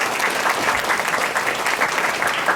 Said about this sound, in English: Please give them a big round of applause again for all their good-looking faces.